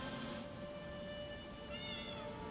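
A cat meows in the video game The Elder Scrolls Online (ESO), a short mewing call near the end over steady rain-like ambient noise with a faint tonal hum.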